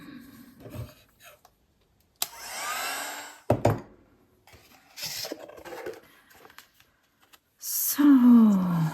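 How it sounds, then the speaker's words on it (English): A handheld dryer blowing on a mixed media craft box in short roaring bursts, close and loud, broken by clattering knocks and pauses, with a person talking briefly between them. "Let me hit this with the dryer."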